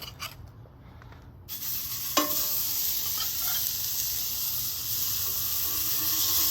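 Beef burgers sear on a hot cast iron griddle set on a Weber grill, a loud, steady sizzle and hiss that swells as the patties land, with a brief clatter early on and no talk.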